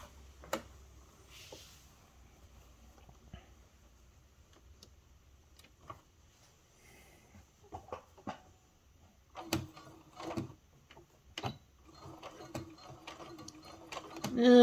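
Sewing machine backstitching at the start of a fabric seam, faint quiet ticking and clicking stitches that get busier and louder toward the end, with brief handling noises.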